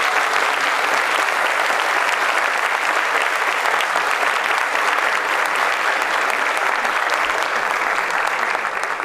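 An audience at an international forum on polluted rivers and climate change applauds in steady, sustained clapping that fills the whole stretch with dense, even noise.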